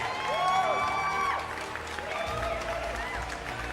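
An audience applauds a speaker arriving on stage at a bank's grand launch event, steady clapping and light cheering over a few seconds, with a voice and music underneath.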